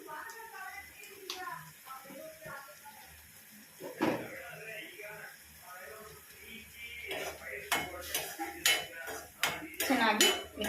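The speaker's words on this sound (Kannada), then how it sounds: "ಚೆನ್ನಾಗಿ ಮಿಕ್ಸ್ ಮಾಡ್ಕೊಳ್ಳೋಣ" Spoon scraping and clinking in a bowl as ingredients are mixed with red chilli powder and salt for a wheat paneer pizza topping, irregular close metallic taps and scrapes that grow busier toward the end.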